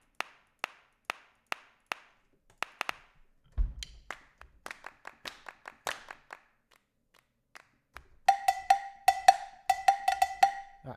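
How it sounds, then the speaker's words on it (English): Sampled percussion from a modern drum library recorded at Abbey Road, beginning with sharp, evenly spaced claps or taps. A denser run of hits follows, and a bright ringing cowbell pattern plays near the end, with no voices. "Oh, nice little cowbell. And here, as you can see, you can select some different percussion going on. Nice little tambourine, maybe some hand claps"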